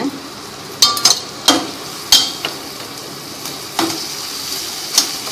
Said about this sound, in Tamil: உப்பு போட்டு நல்லா வதக்கிங்க